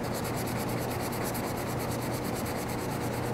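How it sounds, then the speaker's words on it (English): Steady, close abrasive rubbing as dents are sanded out of clear coat on a car body panel, an even scratching hiss that runs without pause. "so you have to sand them out"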